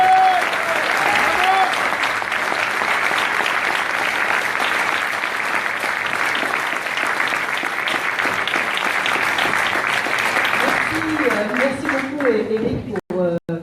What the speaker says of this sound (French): sous un tonnerre d'applaudissements, Charlotte Girard